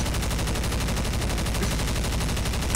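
Rapid automatic gunfire from the video game Left 4 Dead rattles in a dense, loud, unbroken burst of evenly spaced shots.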